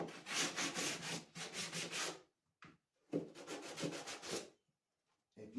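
Close, steady back-and-forth rasping of a hand sanding block on wood in rhythmic strokes, pausing briefly between two bursts of sanding.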